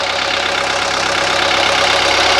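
A 1983 Mercedes 240D diesel engine idles close by, a loud, steady clattering rumble with an even rhythmic knock throughout, and no voices.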